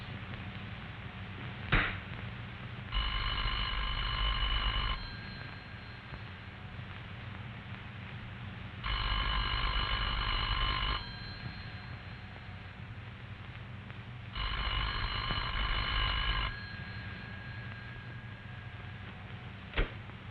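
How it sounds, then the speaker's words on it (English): A telephone rings three times in long, evenly spaced bursts of about two seconds each, separated by several seconds of quiet hiss. "The party at this number will hear a clear, evenly spaced ring that sounds like this."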